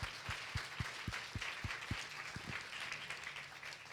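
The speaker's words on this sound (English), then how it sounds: "Let's get a round of applause for our health team." Round of applause for a health team at a conference, a thin, quiet patter of clapping from a small crowd, with some heavier, slower low thumps near the start.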